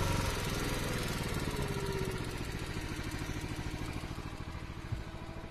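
Small engine on a log splitter running steadily, throttled back toward idle, with a continuous rough mid-pitched drone that stays fairly loud and even throughout, with no talk.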